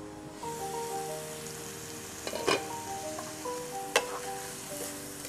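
Ingredients including curry leaves and tomato sizzle as they roast in a pan for a Malabar-style dish, a soft continuous frying hiss with a couple of brief stirring clatters, fairly quiet and close.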